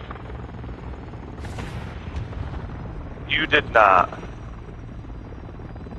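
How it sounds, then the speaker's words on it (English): Helicopter rotor noise from a chopper gunner killstreak in a video game drones steadily, with a few sharp gunfire or explosion bursts near the middle and game voices speaking over it. "Friendly chopper gunner servicing target."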